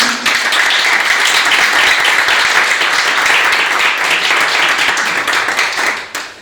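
Applause from an audience at a reading event, dense and loud clapping that holds steady for several seconds before fading out at the end.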